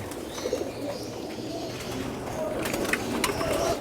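Pigeons in a loft and aviary coo softly and repeatedly with some chirps and faint mechanical clatter, a continuous close bird chorus with no clear speech.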